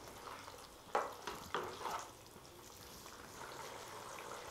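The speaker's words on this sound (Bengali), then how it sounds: "একটু নেড়ে দেব।" Doi aloo curry simmering on low-medium flame gets a few quick stirs in the pan, three or four soft scraping strokes over a faint, quiet bubbling sizzle.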